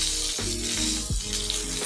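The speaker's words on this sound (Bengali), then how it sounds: "বেগুনগুলিকে একটু ভাজা করে নিই" Cut eggplant pieces fry in a pan, giving a close, continuous sizzle and hiss with a steady hum underneath and a couple of brief scraping movements.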